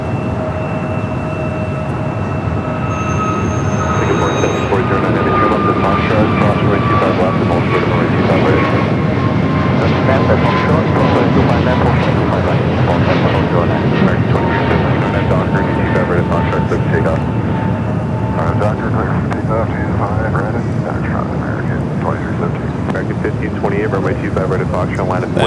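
A Delta Boeing 737-900ER airliner in from Las Vegas roars steadily at LAX, a loud sustained engine rumble with rising and falling whine tones, close and continuous throughout without talk.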